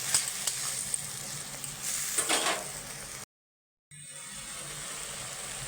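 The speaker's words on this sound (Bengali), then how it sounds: "দিয়ে এটাকে ভালো করে আবার ভেজে নেব।" Chili, white mustard and poppy seed paste fries with onions in a pan for pointed gourd curry, a steady close sizzle with stirring scrapes, then a brief cut to silence before the frying hiss resumes.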